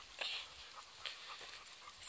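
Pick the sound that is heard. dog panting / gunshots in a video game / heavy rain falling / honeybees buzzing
dog panting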